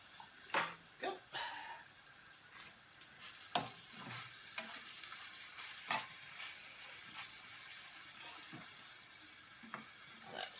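Food frying in a pan while salmon oil and other ingredients go in, a steady hiss broken by sharp stirring clatters and scrapes, with a few brief dog-like noises in the kitchen.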